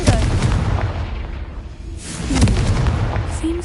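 A Confringo spell explosion from the video game Hogwarts Legacy bursts with a loud, booming blast that fades into rumbling debris, followed by further thuds and a softer second impact.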